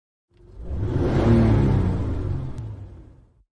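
A car approaches and roars past close by, a loud rising and fading whoosh of engine and road noise lasting about three seconds.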